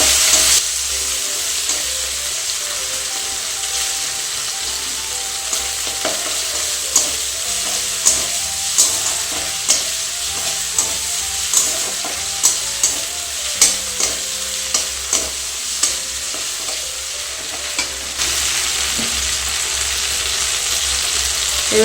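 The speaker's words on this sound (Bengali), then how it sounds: "এবারে দিচ্ছি আদা, আদাটা টমেটোর সঙ্গে ভালো করে নেড়ে করে নিচ্ছি।" Ginger and tomato fry in a pan, a continuous sizzling hiss punctuated by regular scraping strokes of a spatula as the mixture is stirred, steady and close with no talking.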